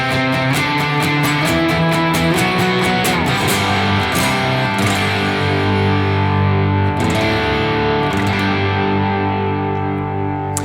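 Distorted electric guitar strums a full, sustained rhythm part through a Neural DSP Archetype: Nolly amp plugin with effects and a touch of ambience, dense and continuous without any talking.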